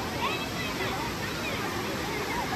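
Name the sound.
waterfall at a Kerala park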